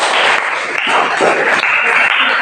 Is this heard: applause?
yes